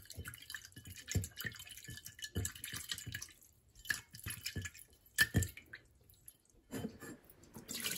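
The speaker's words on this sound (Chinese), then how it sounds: "然后把清洗的这个水倒掉" Water used to rinse salted sausage casings is poured out, splashing and dripping in uneven spurts with short pauses, near and fairly clear.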